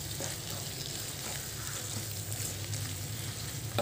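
Squid roast with soy sauce is stirred in a frying pan, giving a steady, close sizzle and bubbling with faint scraping throughout and no talking.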